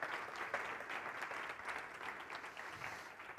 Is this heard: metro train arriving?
no